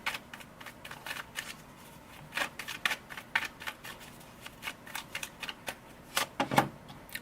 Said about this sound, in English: let's pull a card for the past position